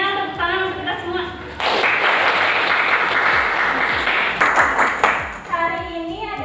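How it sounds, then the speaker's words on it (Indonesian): Classroom group applause bursts in after a moment of music-like tones, a dense clapping swell lasting about three seconds before fading back under the ringing tones. "Tepuk tangan untuk kita semua."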